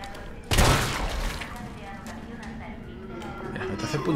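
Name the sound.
gunshots in video game Resident Evil 3 Remake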